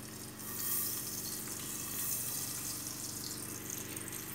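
Running water splashes steadily as rice grains are rinsed for cooking, a continuous close wash of flowing water from a tap filling the whole moment with no voices.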